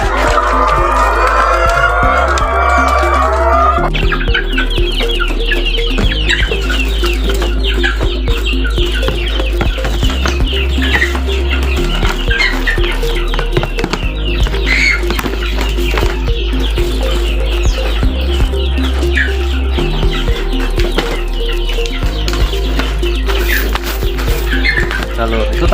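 Chickens cluck and squawk continuously on a poultry farm that also raises maggots, a busy flock close by and loud, with a steady low hum underneath and voices now and then.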